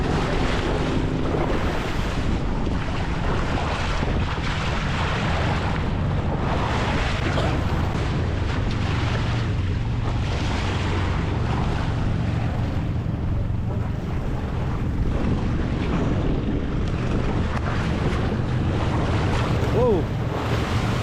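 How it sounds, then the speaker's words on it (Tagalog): Large ocean waves surge and crash continuously at sea, a loud, steady roar of surf mixed with buffeting wind noise, with no clear pauses throughout. "So, sobrang laki ng alon."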